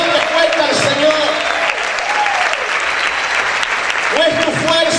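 A Spanish-speaking church congregation applauds loudly for the Lord, dense continuous clapping filling the space while sustained tones and voices carry on underneath.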